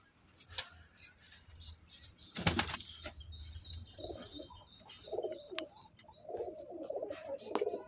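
At a pigeon sale, fantail pigeons and other fancy pigeons coo and chirp nearby, with a sudden burst of wing flapping early on and more low cooing later.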